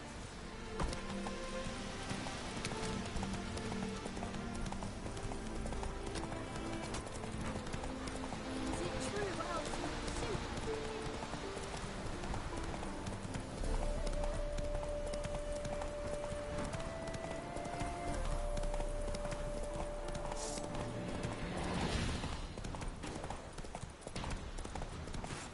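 Roach, the horse in The Witcher 3, gallops in a steady rapid rhythm of hoofbeats throughout, with game music and ambient rain-like noise underneath and a voice calling out partway.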